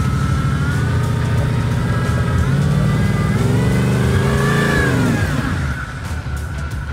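A Porsche Cayenne with a 4.5 engine drives forward off-road on hilly terrain, a loud close engine hum that rises and falls in pitch as the revs change.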